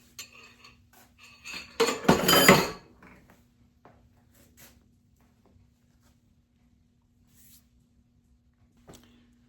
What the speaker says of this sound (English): let me stir it up a little bit more because I did put that egg in there